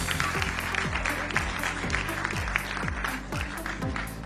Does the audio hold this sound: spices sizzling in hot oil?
no